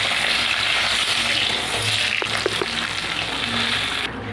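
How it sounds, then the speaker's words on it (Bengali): Bata fish fries in hot oil with a dense, continuous sizzle that stays loud and close throughout. A few light utensil clicks sound near the middle, and no one speaks. "দেখুন দেখুন মাছটা আমার ভাজা হয়ে গেছে।"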